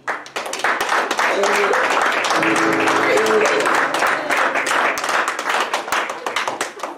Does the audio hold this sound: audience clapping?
yes